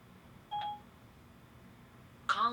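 Phone call dialing tone from Apple CarPlay on a Kenwood DDX9702S car radio: a short two-note beep, then a brighter chime a couple of seconds later, both clear over a quiet cabin hum.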